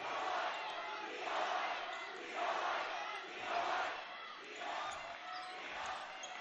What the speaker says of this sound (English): An electric crowd, both teams with enthusiastic student sections here tonight.